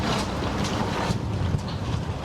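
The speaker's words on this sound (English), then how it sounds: "The wind's just picked up a big bit there." Strong, gusty wind buffeting a sailboat on a squally day, roaring steadily into the microphone with rising and falling surges.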